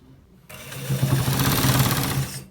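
Sewing machine stitching a designer shirt runs steadily and close after a brief quiet start, a fast continuous whirring hum that holds for about two seconds before stopping.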